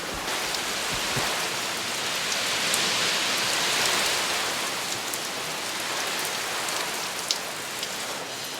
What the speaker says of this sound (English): That rain is insane.